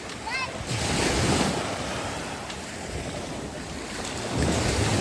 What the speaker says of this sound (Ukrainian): Ну ви бачите, є хвилі трохи, вона хвилюється, але вона так чиста, дуже чиста.